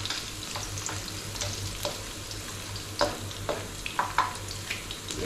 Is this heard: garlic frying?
yes